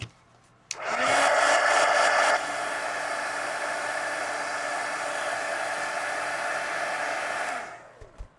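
Hair dryer blowing on a mixed media collage card, switching on with a sudden click into a loud, steady whoosh, easing slightly lower after a couple of seconds, then cutting off near the end.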